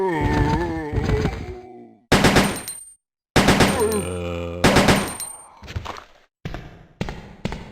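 Gunfire in Resident Evil 2 on PlayStation 1, heard as loud bursts of rapid repeated shots in several separate volleys, each cutting off abruptly, with game sounds in between.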